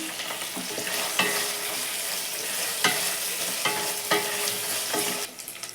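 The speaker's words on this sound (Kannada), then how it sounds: "ಇದನ್ನು ಸ್ವಲ್ಪ ಚೆನ್ನಾಗಿ ಎಣ್ಣೆಲೆ ಫ್ರೈ ಮಾಡ್ಕೊಳ್ಳೋಣ ಚೆನ್ನಾಗಿ ಫ್ರೈ ಆದರೆ ಸಾಂಬಾರು ತಿನ್ನಬೇಕಾದ್ರೂ ಟೇಸ್ಟ್ ಇರುತ್ತೆ" Curry leaves frying in hot oil in a pan, a continuous loud, close sizzle with several stirring scrapes spaced out across it, no voices present.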